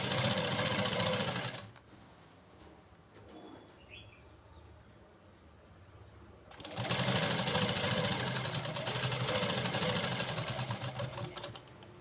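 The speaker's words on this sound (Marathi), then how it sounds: "लॉक करायची शिलाई आणि शिलाई देत जायची" A sewing machine stitches a blouse in two loud, continuous bursts, each running for several seconds. A quieter pause between them carries faint background sounds.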